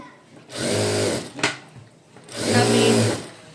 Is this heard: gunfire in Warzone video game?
no